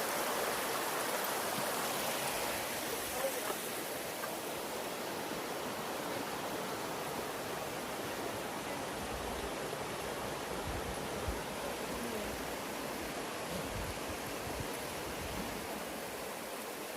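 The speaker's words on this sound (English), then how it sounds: "I do love the sound of water" Continuous rushing of stream water flowing on the Ingleborough Nature Trail near Clapham, a steady hiss and babble close by, with no voices.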